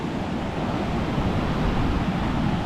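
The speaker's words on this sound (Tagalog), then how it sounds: "Babago-bago ang ihip ng hangin." Steady, loud wind gusting and rushing, a broad continuous roar with slight swells, no voices.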